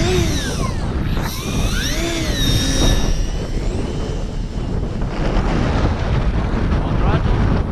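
A Multiplex Blizzard model airplane at full throttle whines overhead, its motor pitch sweeping up and down as it passes, over constant wind rumble with people talking nearby.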